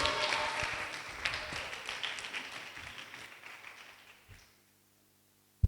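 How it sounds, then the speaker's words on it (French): Classroom applause for team B during a French spelling and elocution contest between two classes, a dense spread of clapping that fades out over several seconds, ending with one sharp knock. "Applaudissez pour l'équipe B."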